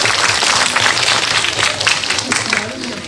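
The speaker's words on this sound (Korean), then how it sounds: "우리 참가한 12개 팀에게 박수를 한번 같이 보내주시면 고맙겠습니다" An audience at the closing and awards ceremony of a children's theatre festival claps loudly and steadily for the twelve competing teams, a dense wash of applause heard up close.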